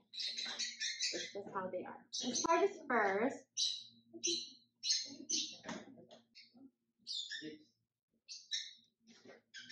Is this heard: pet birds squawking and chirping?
yes